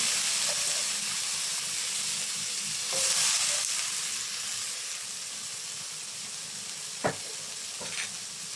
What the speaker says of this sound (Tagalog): stir fry lang natin ulit para all combine